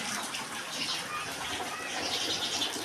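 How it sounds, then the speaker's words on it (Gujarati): Rain falls steadily outside a house in Bhavnagar, water pouring off the rooftop terrace in a constant, hissing wash with no breaks, heard from fairly close. "વરસાદ બહાર ચાલુ છે"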